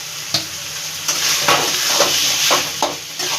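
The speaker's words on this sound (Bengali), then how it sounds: "আলুগুলো ভালো করে একটু কষিয়ে নেবো এতে," Potatoes sizzle in hot spiced oil while being stirred, with a spoon scraping and clinking against the pan in a few sharp strokes over continuous loud frying hiss.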